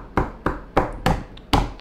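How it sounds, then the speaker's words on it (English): Hands tapping out a steady three-beat pattern, five crisp evenly spaced taps, close and fairly loud, with no talking. "if I tap 3 on this hand and 2 on this hand, it sounds kind of like this."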